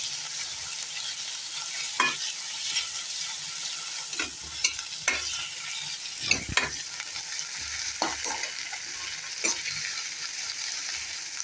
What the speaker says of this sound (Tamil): இதில் நம்ம கட் பண்ணி வச்சுருக்கிற தக்காளியும் போட்டுடலாம்